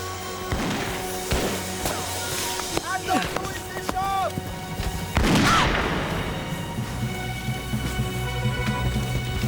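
A musket volley in a period naval battle scene, with a big blast roughly midway that swells and fades, surrounded by shouted commands, crackle and scattered impacts.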